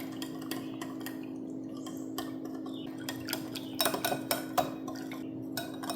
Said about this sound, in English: and give it a good whisk.